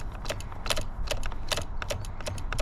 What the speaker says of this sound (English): we will use the brake lever a few times